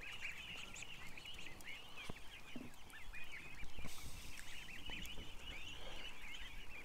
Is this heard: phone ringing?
no